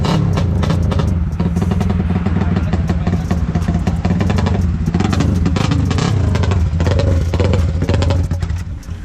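A Mindanao-built motorcycle engine runs loudly and continuously nearby on a test ride, with uneven revving and mechanical clatter, stalling as it pulls away, fading slightly at the end.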